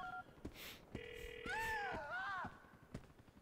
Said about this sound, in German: Okay, Telefonbuch. Clay.